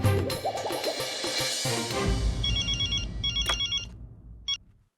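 A telephone rings in a domestic TV-sitcom scene, a few short electronic bell bursts heard clearly near the end after a stretch of background music and room noise.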